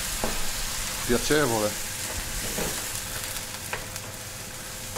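Meat sizzles loudly in a hot pan, deglazed with red beer, a steady frying hiss throughout, with a brief spoken word from a person nearby.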